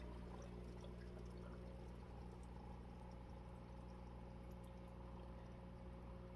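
Water flows steadily from a Hygger 3-in-1 internal aquarium filter with an adjustable valve, a continuous faint gurgling trickle with a low hum beneath, no voices.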